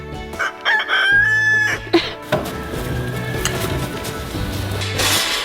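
Chickens cluck in bursts and a rooster crows nearby, with rustling and scratching noise filling the background.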